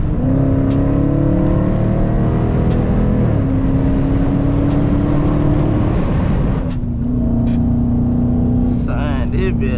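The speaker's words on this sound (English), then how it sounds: "y'all about to hear how good this motherfucking intake sound" A car engine with its intake droning loudly while driving, a steady low hum that holds pitch, dips and climbs as gears change, with a voice talking over it and some wind noise.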